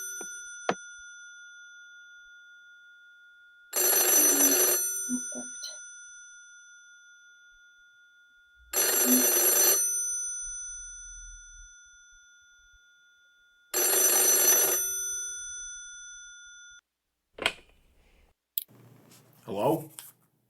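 An old-style telephone bell rings in three long, loud bursts separated by pauses, followed by a few clicks and brief rustling.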